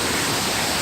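River water rushes and splashes steadily near a waterfall in Banyuwangi, a loud, dense, continuous roar filling the whole short moment.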